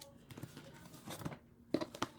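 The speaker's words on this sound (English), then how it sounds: "I call this shuffling, but it's really just cutting in a lot of piles" Two tarot decks of over a hundred cards are cut into many piles by hand, giving soft papery slaps, riffles and taps in an irregular rhythm, close and quiet.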